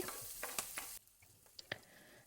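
Onions, green chillies and chana dal fry in oil with a quiet hiss, punctuated by a few light scraping stirs; the sizzle drops lower partway through.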